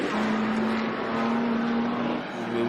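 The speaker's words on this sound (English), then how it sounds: "the Falcon going to be hard under brakes here too" A Ford Falcon race car at Sydney Motorsport Park, its engine a loud steady droning whine under a wash of track noise, the pitch holding nearly flat and then dipping slightly as it slows for a corner.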